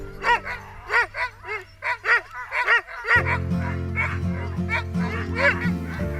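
Sled dogs barking in a winter setting, a rapid series of sharp repeated yelps and barks, with a rumbling engine-like drone joining in partway through.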